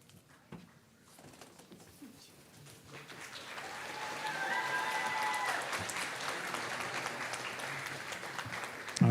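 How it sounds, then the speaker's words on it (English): Applause from a graduation ceremony audience honouring Advanced Diploma in Interior Design and Technology graduates, starting faint and swelling after about three seconds into a steady, dense crowd clapping that holds to the end. "big round of applause for everyone from the Advanced Diploma in Interior Design and Technology"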